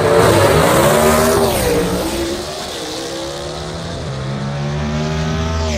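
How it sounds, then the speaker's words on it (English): Gasser drag race cars at Aiken, North Carolina roar loudly down the strip, engines revving and climbing in pitch as they accelerate, the sound shifting and fading slightly as they reach the top end. "listen to those cars get through the top end stripe"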